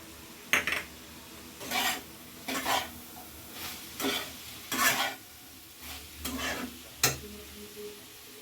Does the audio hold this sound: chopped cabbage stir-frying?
yes